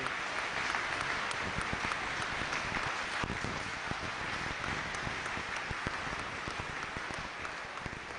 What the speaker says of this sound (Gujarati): હવે આપણે નવ દીક્ષિત માટે તાળીઓના ગડગડાટથી એમને આવકારીએ.